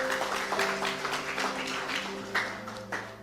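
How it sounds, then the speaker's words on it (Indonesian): Congregation applause for God during a church service, steady light clapping spread through the room with a sustained musical tone underneath, moderately loud throughout. "Berikan tepuk tangan bagi Tuhan."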